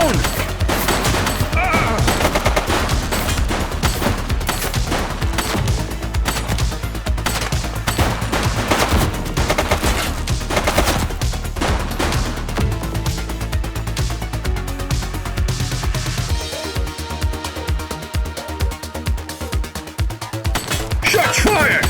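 Dense, loud gunfire from a police shootout in The Precinct video game, nearly continuous volleys and bursts running for the whole stretch, mixed with game sound and a voice in the background.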